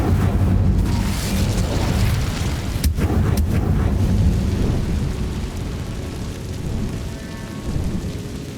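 The Incendio fire spell in Hogwarts Legacy makes a deep rumbling whoosh and boom that swells, gives a couple of sharp cracks near the middle, then settles into a lower roar.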